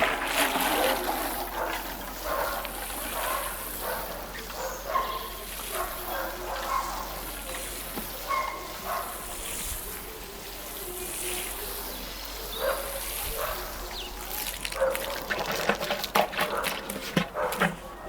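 Lettuce seedlings just planted out in a garden are watered in, with a steady outdoor trickle and splash of water running continuously, fairly soft, with small irregular spatters throughout.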